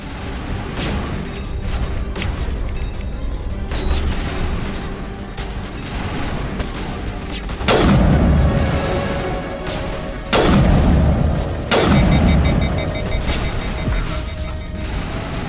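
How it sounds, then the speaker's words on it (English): Gunfire in the video game Mass Effect, including a sniper shooting, with repeated booming shots and bursts of fire over a busy battle soundscape, several loud blasts landing in the second half. "Sniper right in the background."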